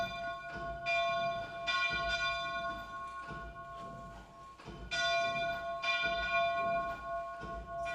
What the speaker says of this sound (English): It's one bell. So if you think about it, it's swinging like that.